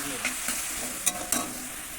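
Spice paste frying in a pan with soybean curry ingredients, a soft continuous sizzle broken by a few quick stirring scrapes and light spoon taps, close by.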